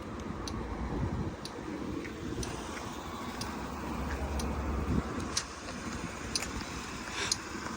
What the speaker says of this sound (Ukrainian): Тихо, приємно працює двигун, без ніяких там питань.